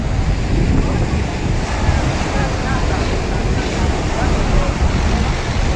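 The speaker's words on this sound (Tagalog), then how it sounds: "Talagang malalaki ang alon." Big ocean waves surge and crash around racing outrigger boats at a sea race, a continuous loud roar of surf mixed with heavy wind buffeting the microphone.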